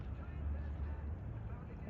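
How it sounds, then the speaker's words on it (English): Miss Massachusetts, a ferry boat heading into the wind, passes with a steady low engine drone, blended with wind noise across the whole stretch. "Like the ferry coming in right now. That's that loud one."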